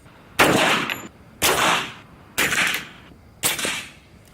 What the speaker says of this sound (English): Now for the suppressed air rifle.